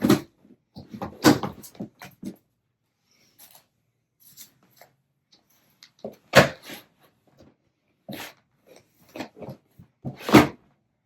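A drawer in a yarn stash is handled with a scattering of sharp wooden knocks, slides and thumps, irregular and close, separated by quiet pauses, ending in a firmer closing bang.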